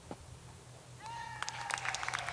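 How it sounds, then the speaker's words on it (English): Scattered clapping from a small group of spectators at a disc golf tournament, faint and distant, starting partway through and continuing in light irregular claps over quiet outdoor ambience, with a brief squeaky tonal sound alongside. "You hear the claps from the spectators."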